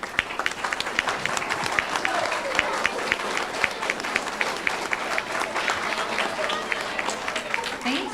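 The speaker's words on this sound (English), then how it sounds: "please stand up and we'll give you a round of applause" Sustained applause for fourth-grade students standing at a school awards ceremony, a steady mass of clapping from the crowd with faint voices underneath.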